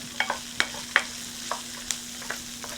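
Onions frying in oil in a pan for a tuna noodle casserole, with a soft steady sizzle and several sharp scraping clicks of a utensil stirring them, close and alone.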